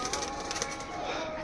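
A Kalduma pigeon coos softly in a brief, faint call, close by, with no talk over it.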